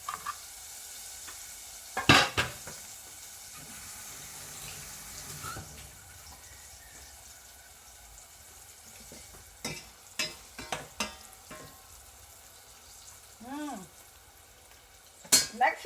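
Onion rings frying in hot oil make a faint continuous sizzle, broken by several sharp clatters and knocks of kitchen utensils and a brief rising squeak partway through.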